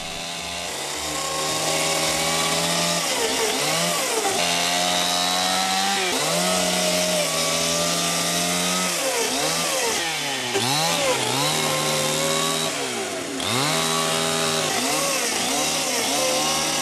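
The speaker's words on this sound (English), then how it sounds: "it's quick work with a chainsaw" A chainsaw roars steadily and loudly up close, its engine pitch dipping and recovering repeatedly as it bites through wood for a deer stand.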